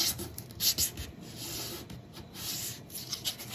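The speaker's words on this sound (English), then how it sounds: "fold it in one way, line it up with the edge, crease it really well, and open it up and fold it the other way" Origami paper is folded and creased for a jumping frog, with close, dry scraping and rubbing strokes and a few crisp crinkles as the folds are pressed flat, no talking.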